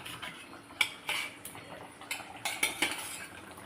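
A metal utensil cuts an egg omelette into pieces in a pan, giving a series of sharp, close clinks and scrapes in an irregular rhythm, with no talking.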